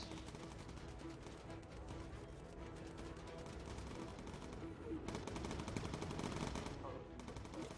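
Machine gun fire in the Bomber Crew video game rattles in dense, continuous rapid bursts throughout, fairly quiet and steady, with no speech over it.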